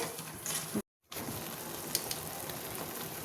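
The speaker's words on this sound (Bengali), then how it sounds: "এবার এটা নাড়াচাড়া করে নেব" Banana stem mash stirred in a frying pan, a steady close sizzle with scraping utensil clicks and a brief gap near the start.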